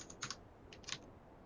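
A computer keyboard being typed on, two short quiet clusters of crisp key clicks close by, separated by a brief pause, over a low hum.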